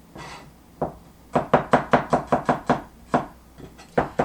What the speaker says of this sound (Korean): 자, 마늘도요, 굵직하게 다질게요